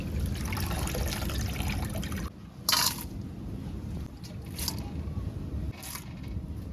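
Prawns being washed by hand in a vessel of water, giving continuous splashing and swishing that pauses briefly and then returns as quieter sloshing with a few sharp scrapes.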